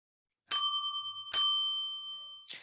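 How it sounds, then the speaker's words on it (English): Attention chime struck twice, each a bright metallic ding with a long ringing decay, followed by a brief softer tap, close and clear in a quiet room. "We found an attention chime"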